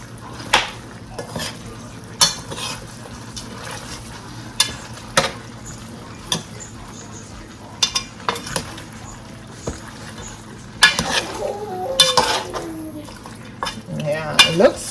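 Spoon stirring Jamaican curry chicken with thyme, garlic and ginger in a pan, with scattered scrapes and clinks against the metal over a low sizzle, growing busier near the end.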